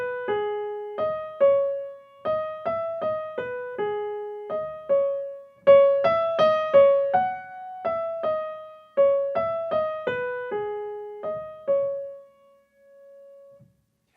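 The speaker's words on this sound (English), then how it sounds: "The notes the bassoon plays are derived from a Lithuanian folk melody, quite a simple tune that sounds like this." A simple Lithuanian folk melody, the tune behind the bassoon solo in Stravinsky's The Rite of Spring, played as a clean single melodic line of short plucked or struck notes. Phrases rise and fall at a moderate, uneven pace, with no voices.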